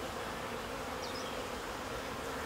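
Honeybees from a beekeeping operation in India buzz steadily around a wooden bee box, a dense continuous hum with faint higher wingbeat whines passing close by, no voices.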